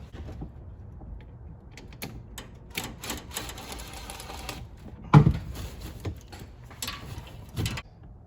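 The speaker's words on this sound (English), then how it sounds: "I'm gonna go ahead and use my 7mm to loosen the hose clamp down at the turbocharger." A 7mm socket works a hose clamp down at the turbocharger of a Ford 3.5 EcoBoost engine, giving scattered metallic ratchet clicks and taps with a few sharper knocks, close and mostly quiet between them.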